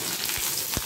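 Onions frying in about a tablespoon of hot oil for a tadka, giving a close, steady sizzle with a couple of soft bumps from the pan or spoon.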